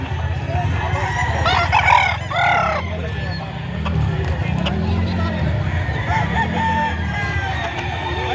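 Several roosters at a gamefowl market in Padre Garcia, Batangas crow repeatedly, with long drawn-out calls near and farther off, over constant clucking and a busy crowd murmur while people talk nearby.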